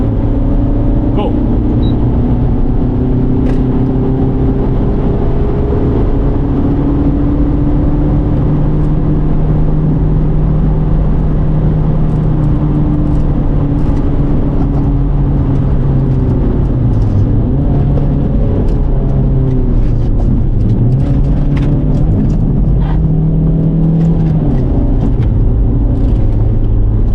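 A car driving a lap of the Nürburgring, a steady loud engine drone with shifting pitch as it accelerates and lifts, continuous throughout with some voice present beneath the noise.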